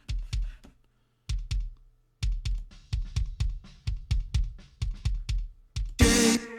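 A kick drum trigger sample with a sharp, smacky attack and bright top end, struck repeatedly in drum patterns with short gaps, dry and punchy, ending in a brief burst of brighter noise.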